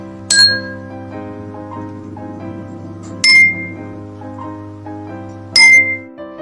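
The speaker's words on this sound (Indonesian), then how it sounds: "dapat didengar bahwa bunyi dari ketiga gelas tersebut berbeda" Three glasses holding different amounts of water are struck one after another, each giving a bright, ringing clink that rings on, at a slow and even spacing over a low steady hum.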